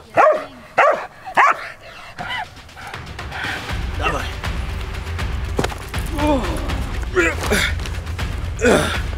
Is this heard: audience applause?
no